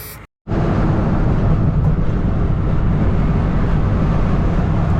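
A truck's engine catches after cranking and settles into a loud, steady running drone that holds evenly for several seconds, close up with no talking.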